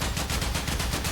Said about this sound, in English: But now when I start holding the button, I'm shooting much more.